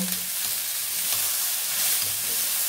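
Onions, carrots and potatoes frying in a pan, a loud, dense, continuous sizzle that stays steady throughout, with no voices.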